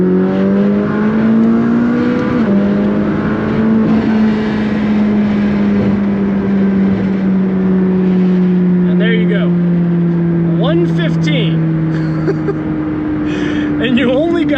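A McLaren 600LT coupe pulls hard through third gear, its engine note climbing in a loud, continuous rising drone that eases slightly toward the end, with talking over it.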